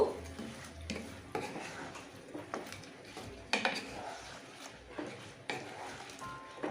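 Chicken wings for spicy buffalo wings are tossed in a pan with the heat turned off, giving quiet, irregular scrapes and clinks of a spoon against the pan with short pauses between strokes.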